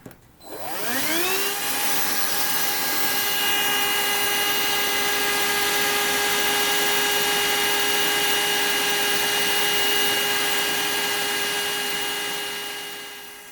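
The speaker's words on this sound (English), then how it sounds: "I tried to vacuum the piece of dust and I got too close to this light" A vacuum cleaner spins up from silence to a steady, loud whirring whine and holds it, used close to the deck of a model ship, then begins to wind down at the very end.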